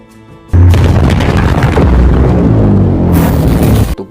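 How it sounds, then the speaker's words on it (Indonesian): A crocodile monster's body bursts apart in a loud, sustained explosion that erupts suddenly, roars for about three seconds, then cuts off abruptly. "Tubuh monster buaya tersebut tiba-tiba meledak dan lalu muncullah Goldie."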